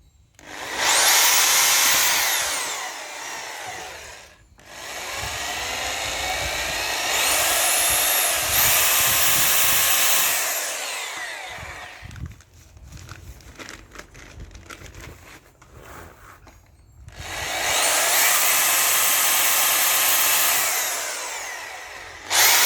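A power drill runs in three long, loud bursts with quieter scraping and rustling between them.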